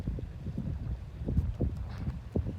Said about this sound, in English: there's a nice breeze coming off the lake